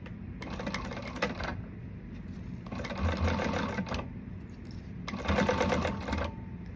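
Domestic sewing machine stitching a seam at the pattern's seam allowance, running in three steady bursts separated by short pauses, close and moderately loud.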